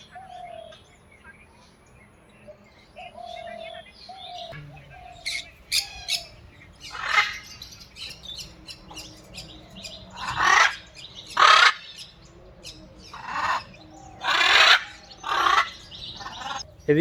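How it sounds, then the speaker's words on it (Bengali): Birds in a wildlife sanctuary forest, including peacocks and large parrots, give loud harsh squawks and calls in repeated bursts, with fainter chirps and a soft whistle-like call early on over a low ambient hum. "এদিকে রয়েছে বিভিন্ন পাখি আর কি, ময়ূর, এক ধরনের দেখলাম টিয়ে পাখি"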